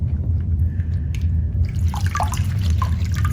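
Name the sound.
soaking torn paper in water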